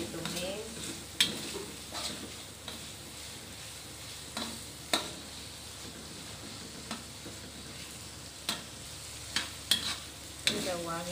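Chopped tomatoes stir-fried in a pan with potatoes, a steady soft sizzle under periodic scraping and clinking of a utensil against the pan.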